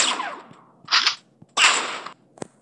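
A shotgun fires in a video game: three sharp, loud blasts with crackling tails spaced about half a second apart, followed by a shorter click, with nothing else behind them.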